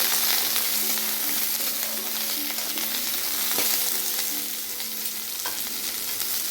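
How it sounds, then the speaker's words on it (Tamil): Dried red chillies are sautéing in a pan for coriander mint chutney, giving a continuous bright sizzle with occasional light stirring scrapes, moderately close and without speech. "ஸோ இதை நம்ம நல்லா வதக்கிக்கலாம்."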